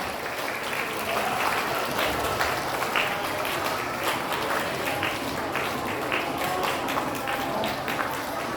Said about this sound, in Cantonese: 請大家咧一次過俾啲掌聲，攞到學科表現優異獎數學科嘅同學